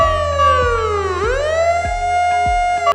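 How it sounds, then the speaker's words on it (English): A fire truck siren wails loud and close, its pitch sliding down and then back up, with a regular low pulsing beat underneath. "Fire truck."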